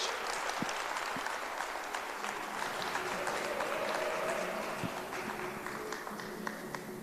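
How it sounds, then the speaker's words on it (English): A book launch audience applauds to welcome Professor Richter to the stage: a dense, sustained wash of clapping from a sizeable crowd with a few sharper claps, lasting the full seven seconds. "could you please give a round of applause as we welcome Professor Richter to the stage"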